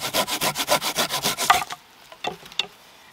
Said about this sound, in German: Und zwar säge ich die einfach schräg hier so an, also durch.